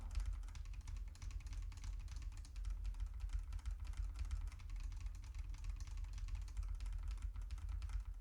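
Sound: computer keyboard typing

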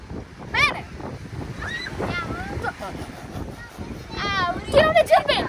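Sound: wind at the seaside

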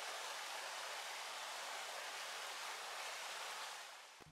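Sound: flowing water of Jackson creek

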